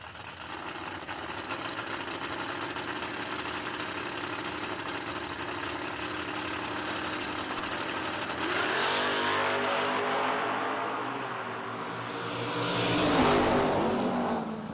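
Drag race cars, a Disco Nova and a Camaro, idling loudly at the start line, engines droning steadily then revving and rising in pitch toward the end.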